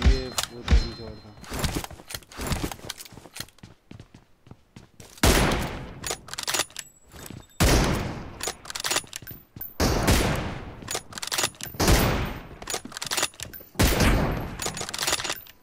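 Gunfire in the PUBG video game during a one-on-one M24 sniper rifle match: loud, sharp shots and thudding bursts that repeat throughout, with a few fainter gaps between volleys.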